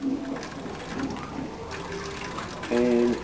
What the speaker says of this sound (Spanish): Ahora vamos a echar a este envase de 20 litros de agua 3 litros de orín de cuy y de conejo.